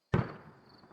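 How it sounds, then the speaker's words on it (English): A single loud gunshot cracks through a forest, a sharp near impact with heavy low-end punch that rolls off into a long, fading reverberant echo. "I heard a loud crack sound resonate through the entire forest."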